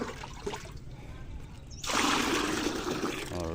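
Water is scooped from a water-filled drum for watering cucumbers. Quiet trickling comes first, then a louder splashing rush as the container dips and fills, heard up close with a voice nearby.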